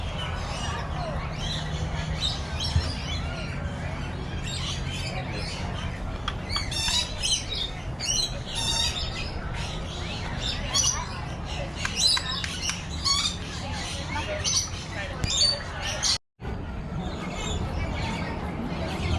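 Spoonbill at a zoo squawking repeatedly in harsh, scratchy bursts amid a busy outdoor soundscape of other bird chirps, close and moderately loud, with a brief dropout near the end.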